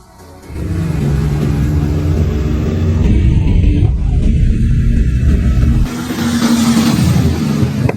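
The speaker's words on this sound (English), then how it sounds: "Every car we restore undergoes real-world testing on the road with high-intensity dynamic trials" A restored vintage Ferrari 250 GT drives on the road during testing, a loud steady engine rumble and road roar passing close, rising slightly as it accelerates.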